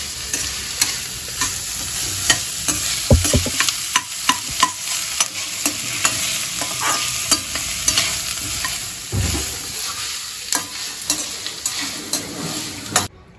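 Onion and green chilli sauté in a pan under a steady sizzle, punctuated by frequent sharp spoon scrapes and knocks against the metal, close and fairly loud, with no voices.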